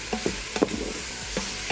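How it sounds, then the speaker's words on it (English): Garlic being stirred in the hot inner pot of an Instant Pot, with a handful of short scraping strokes spread over the moment against a faint, steady sizzle, close and fairly quiet. "I'm just gonna mix around."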